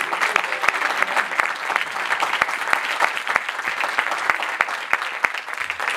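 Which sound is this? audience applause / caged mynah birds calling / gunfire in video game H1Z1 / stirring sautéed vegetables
audience applause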